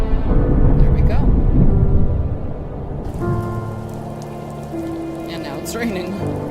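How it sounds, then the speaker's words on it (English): Rain falls on a snowy landscape in the video game The First Tree, a continuous patter of drops with a soft rumble early on, then lighter rain with faint tonal game music. "Raining on the snowy landscape."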